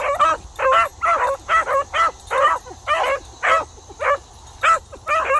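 Two dogs out on a path, one a pregnant female, give a steady run of sharp yips and whimpering barks, about a dozen close, loud bursts evenly spaced with brief gaps between them and no talking.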